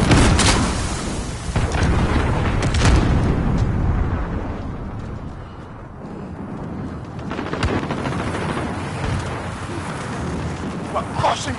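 Cruise missile strikes in the Modern Warfare online game, heavy booming explosions with rumbling bursts and crackling debris, loud and close at first, easing, then erupting again, with a player talking over them.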